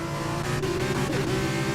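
Onboard engine of an F2 race car in a sim racing game at Bahrain, a loud sustained high-revving drone with steady harmonics and a brief gear-change dip.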